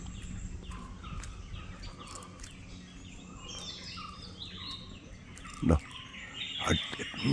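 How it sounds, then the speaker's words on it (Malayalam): Birds call and chirp at a nature-friendly family resort in Kakkadampoyil, with scattered bright chirps against a steady outdoor background and a few louder calls near the end. "എന്തോ ഒരുമാതിരി പക്ഷികളാണ്."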